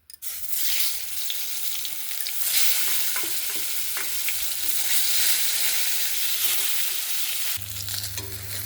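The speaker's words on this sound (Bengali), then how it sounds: "যে বেগুনগুলো এবার ভেজে নেব।" Brinjal pieces coated with salt and turmeric fry in hot mustard oil in a village kitchen, a steady, close sizzle with occasional stirring scrapes and no talking.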